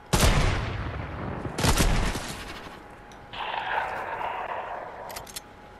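Two heavy, booming sniper shots ring out in a video game about a second and a half apart, each with a long trailing echo, followed by a quieter sustained rumble and a faint distant crack.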